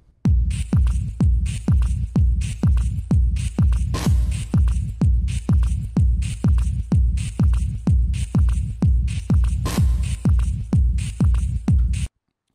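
Electronic music by an Argentine producer with a deep, pulsing textured bass in a steady rapid rhythm, each throb decaying quickly, loud and continuous before stopping abruptly.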